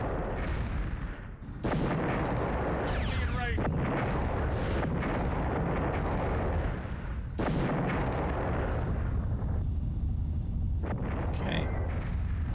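Heavy, rapid cannon blasts from the video game Stratosphere: Conquest of the Skies, fired from forts in a near-continuous barrage of booms with a few brief gaps and a high electronic tone late on.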